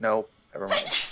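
One sharp sneeze follows a few spoken words at a tabletop role-playing game session, close and fairly loud.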